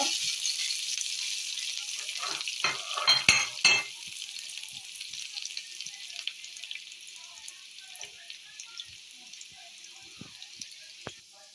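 Mustard seeds and chopped shallots sizzle and crackle in hot oil, loud at first with bursts of popping and stirring, then settling into a quieter, steady frying hiss.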